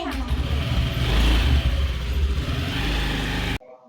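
A Honda Activa scooter pulls away with a close mid-pitched engine hum that swells as it revs and then cuts off abruptly, with voices in the background.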